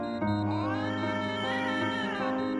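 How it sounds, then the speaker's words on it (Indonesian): A cat meows and caterwauls loudly in one long, drawn-out, wavering cry with rising and falling pitch, close and continuous, no speech over it. The cat is perched on a rooftop in an animated Baymax series. "Dia naik ke atap sambil ngeong-ngeong."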